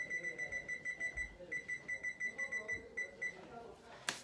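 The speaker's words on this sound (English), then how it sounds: "I'm gonna set my timer." A kitchen timer beeps in a rapid, steady series of bright pulses for several seconds, then stops, followed by a short clatter.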